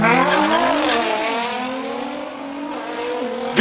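A Nissan R35 Skyline race car with a V6 twin turbo and all-wheel drive powers up a hill climb course at the Cape Town Speed Classic, its engine loud and close, revving and shifting pitch continuously.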